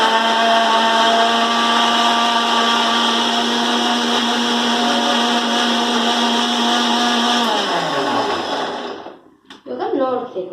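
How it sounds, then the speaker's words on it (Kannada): A kitchen mixer grinder whines loudly and steadily at close range, its pitch sliding down as the motor winds to a stop, followed by brief clatter. "ಆಮೇಲೆ ಮಿಕ್ಸಿಯನ್ನು"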